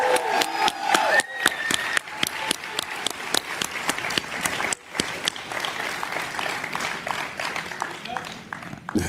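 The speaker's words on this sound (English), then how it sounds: "Please give a rousing round of applause for our NABJ founders." An audience at the NABJ convention opening ceremony breaks into sustained applause, dense clapping with a few voices and cheers mixed in, continuing strongly throughout.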